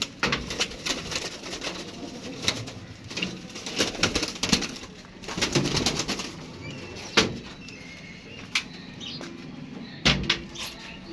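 Pigeons on a rooftop coo softly among scattered flutters and sharp knocks and taps, the sounds irregular and fairly close against quiet background noise.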